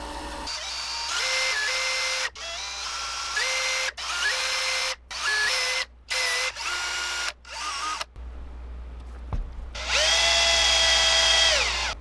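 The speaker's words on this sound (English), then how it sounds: "I'm going to sand this joint back a very small amount" A rotary power tool whines in repeated bursts with rising and falling pitch while sanding back a joint on a wooden swimbait lure, starting and stopping several times, close and loud.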